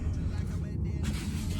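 Infiniti Q50 engine fitted with BMS turbo inlets, a loud, steady low rumble running throughout at close range with no break.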